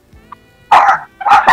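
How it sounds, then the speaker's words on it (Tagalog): A dog barks twice, loud and close, two sharp separate barks with a short gap between them after a quiet start. "bawal po yung tahol ng aso, mapupul yung live natin mamaya"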